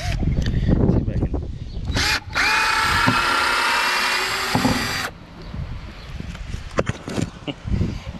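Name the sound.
drill drilling out hardened powder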